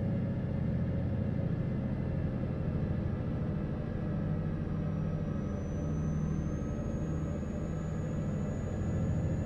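A Volvo FH16 540 truck in Euro Truck Simulator 2 cruising in high gear, a steady, loud, low engine drone with road rumble and a faint rising whine, unbroken throughout.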